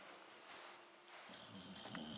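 Faint, soft snoring from a sleeping pet indoors, low and steady under a wash of background hiss, with no voices.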